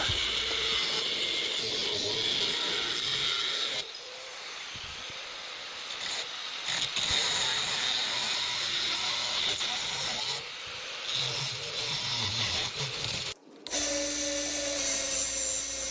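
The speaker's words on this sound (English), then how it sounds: "I'm going to set it up and use an angle grinder to rough cut out the shape" Angle grinder rough-cutting a Nakiri-style knife blank from steel plate, a loud continuous abrasive hiss and whine running steadily with short dips and pauses, close up and without voices.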